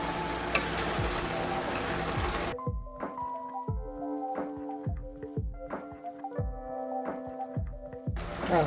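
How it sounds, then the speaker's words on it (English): Carrots and potatoes stirred in a pot for soup: a run of hollow wooden thunks and scrapes in a steady rhythm, close and moderately loud, framed by a burst of sizzling at the start and end. "now after the carrots, we're gonna add the potatoes. Okay. And I'm just gonna mix this all around in here"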